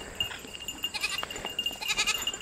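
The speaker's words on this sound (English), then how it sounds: "Ellie, back away from the goat." A goat in a horse field bleats in short, wavering calls, with a few overlapping cries from other goats amid outdoor background noise.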